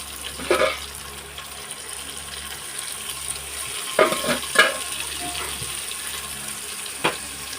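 Chopped tomatoes drop into a frying pan with reddened onions, giving a soft, steady sizzle broken by a few sharp clattering stirs and scrapes.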